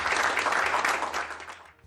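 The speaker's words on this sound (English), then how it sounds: "Why don't we give the speakers a round of applause." Audience applause for the speakers at a special event, a dense burst of clapping that holds steady, then thins out toward the end.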